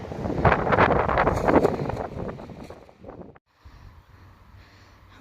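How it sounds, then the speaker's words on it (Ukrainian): Strong gusty wind after a storm buffets the microphone in bursts, loud at first, then fading to a quieter rustling lull with a brief near-silent gap. "Така сила вітру."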